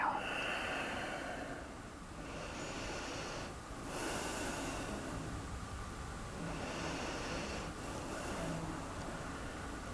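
Deep yoga breathing fills the whole stretch: slow, airy inhales and long exhales that rise and fall in a steady rhythm, close and soft.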